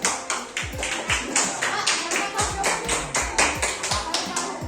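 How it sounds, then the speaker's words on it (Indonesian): A classroom of pupils claps hands for a classmate, a run of sharp, fairly close claps with a loose, uneven rhythm that continues steadily for several seconds. "Tepuk tangan dulu untuk Akan."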